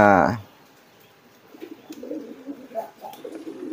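Pigeons coo softly in a loft where eggs have just been removed, low burbling calls repeating after a brief loud burst at the start, fairly close and alone without talk.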